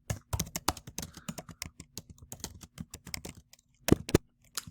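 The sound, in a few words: typing on a computer keyboard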